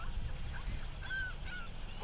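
Seagulls call over steady outdoor noise, giving several short, honking, nasal squawks at a moderate distance.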